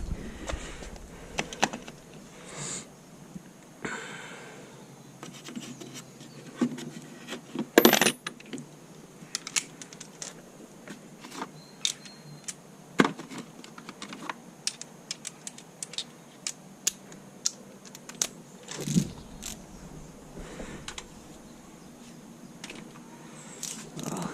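Metal sockets clink and rattle while someone rummages through a tool set beside an MGB GT, producing sharp irregular metallic jangles and taps, close up, scattered across a longer stretch with quiet gaps.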